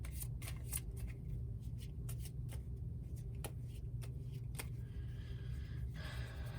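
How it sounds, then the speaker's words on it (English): Monster cards for the Puzzle Dungeon board game riffle and snap in a quick series of shuffles, close and soft, with a steady low hum underneath. "And then I'll shuffle these arsenal cards."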